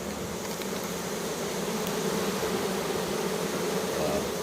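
A dense, steady drone from a hive of about 100,000 bees, loud and close with an even hum, uninterrupted and with no talking.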